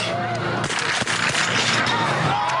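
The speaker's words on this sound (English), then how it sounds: "Russia first to strike. Good shooting from Volkov" Biathlon rifle shots ring out at a World Cup mixed relay in Östersund, sharp cracks set against a steady roar of crowd and commentary, with one distinct loud report near the middle.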